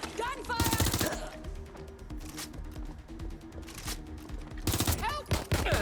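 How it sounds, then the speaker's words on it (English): Bursts of rapid automatic gunfire from the video game Watch Dogs: Legion come in several loud volleys, with quieter game sounds and brief voices between them. "Gunfire!"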